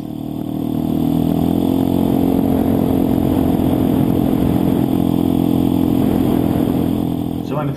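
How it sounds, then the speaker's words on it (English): A loud, tricked-out scooter exhaust in earthquake-damaged Bohol roars close by for about six seconds, holding a steady, rough drone with talk over it. "The exhaust on that scooter, that must have been so terrifying."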